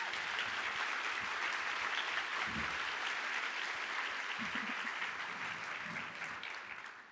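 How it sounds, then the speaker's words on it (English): Sustained round of applause from an audience at a talk on inclusive food systems, steady and dense throughout, fading slightly at the end, with no voices over it. "Can we please give them another round of applause?"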